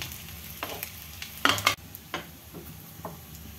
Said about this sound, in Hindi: इस टाइप से फ्राई करना है देखिए ऑयल ज़्यादा नहीं लग रहा